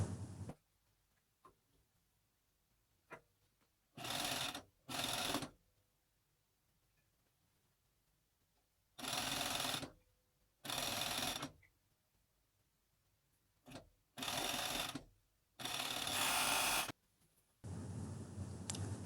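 A coverstitch sewing machine stitches the side seam of a knit top in short separate runs, each a loud whirring burst of a second or two, with quiet gaps and a few light clicks between them.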